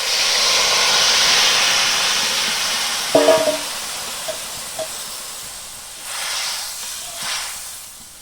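Pangas fish curry in a pot on the stove: a steady hissing, bubbling simmer fills the first half, with a few clinks around three seconds, then quieter bubbling with occasional soft surges.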